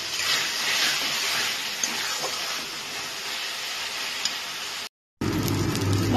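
A spice mix sautés in a pan for lote fish jhuri, a constant airy hiss and sizzle, fairly faint and steady, cutting off briefly before a short burst of a louder, denser sound.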